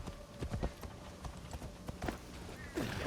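Horse hooves clip-clop steadily in Assassin's Creed Shadows, a close, even trot of game footsteps with a burst of louder noise near the end.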